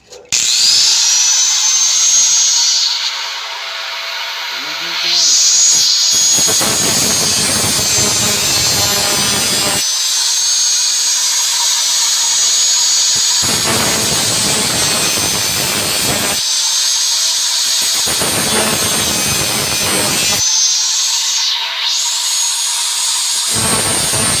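An angle grinder cuts brass letters for signage, a loud, high-pitched continuous whine from close by that dips and surges as the blade bites into the metal in repeated passes.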